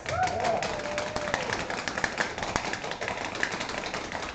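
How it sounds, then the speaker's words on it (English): A crowd applauds steadily, dense clapping mixed with scattered cheers and voices, fairly distant and continuous throughout. "If you think James won it, give him a big round of applause."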